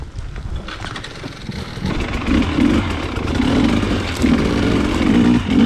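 A motorcycle engine idles and then revs up and down through repeated throttle blips on a hilly trail, loud and close for the whole stretch.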